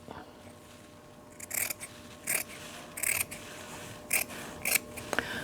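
Fabric being cut with scissors for a 1950s Christian Dior bodice, giving five or six crisp snips in an uneven rhythm, close and fairly quiet against a low room hum, with no talking.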